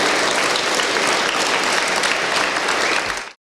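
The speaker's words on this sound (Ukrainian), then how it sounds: "Давайте оплесками поапландуємо нашим збройним силам, які дають можливість нам грати в футбол." Sustained applause from a crowd at a youth football tournament, dense and steady clapping throughout that cuts off abruptly at the end.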